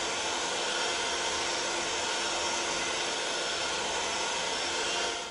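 An electric mixer beats thick chocolate fudge in a pan, a loud, steady whirring drone that runs without a break.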